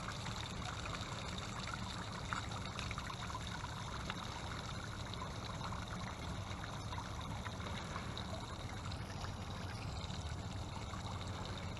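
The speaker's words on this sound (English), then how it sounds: "Let's pull this plug out and let it drain" Water drains steadily from the open drain plug of a bass boat, making a faint, continuous trickling and gushing hiss with no talk.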